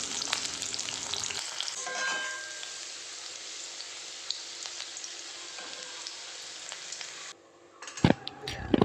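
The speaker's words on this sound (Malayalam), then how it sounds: "ഇനി നമുക്ക് ക്യാപ്സിക്കം ചെറിയ ചെറിയ കഷ്ണങ്ങളാക്കിയതും കൂടി ഒന്ന് ഫ്രൈ ചെയ്തെടുക്കാം." Small pieces of capsicum fry in a pan for a prawn biryani, giving a steady close sizzle with crackling pops and faint stirring, then a brief clatter of utensils near the end.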